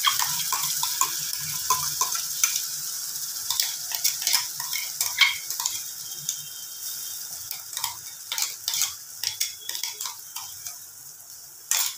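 A ground spice paste frying in hot oil, crackling and spattering with sharp scraping and stirring bursts that grow louder and more frequent toward the end, close by, no voices.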